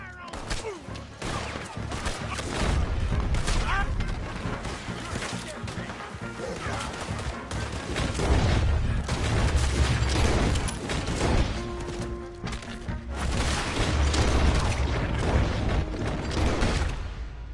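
Gunfire and loud impacts in the Western video game Red Dead, dense and continuous with repeated sharp bursts and crashes over a busy low rumble, with voices shouting at times.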